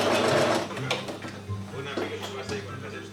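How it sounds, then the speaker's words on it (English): A sewing machine stitches the side and shoulder seams of a vintage boiler suit bodice, giving a steady, close mechanical whir with a rapid needle rattle throughout while a voice talks underneath. "I'm starting by connecting the side seams and the shoulder seams at the bodice."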